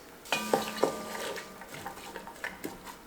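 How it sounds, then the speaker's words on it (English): Vegetables tossed into a pan on medium heat to sauté in a little water, with a few sharp clatters and stirring knocks at the start, then a soft, steady sizzle with light utensil scrapes close by. "these will saute for 5 minutes until they get softened"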